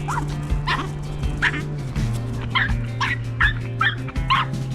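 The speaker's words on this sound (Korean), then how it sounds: "이렇게 짖으면 어떻게 그동안에 통제하셨어요?" A Maltese dog on a walk barks in a rapid series of sharp yips, about eight or nine close, loud barks over a steady low hum, with no talk.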